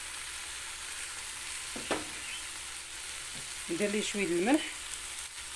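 Shrimp frying in olive oil in a pan give a steady, fairly soft sizzle with a couple of utensil clicks, and a person briefly speaks over it near the end.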